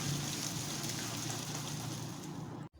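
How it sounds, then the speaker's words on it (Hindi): Semolina roasting in a pan for makhandi halwa, stirred continuously with a spoon, gives a steady, soft rushing sizzle with faint scraping that holds evenly and then cuts off abruptly at the end. "अब मैं मुसलसल चम्मच हिला रही हूँ और सूजी को भूनना है"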